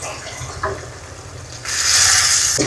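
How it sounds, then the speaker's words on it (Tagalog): One cup of water poured into a pan of sautéed chayote with pepper, a steady rushing splash that starts midway and runs to the end, following brief quieter kitchen clatter. "Lagay po ang 1 cup na tubig."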